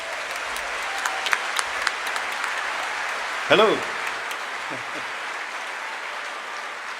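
Audience applause welcoming a singer at an evening music gathering, a steady broadband clatter of clapping throughout, with a brief spoken greeting and a short sung note rising over it midway.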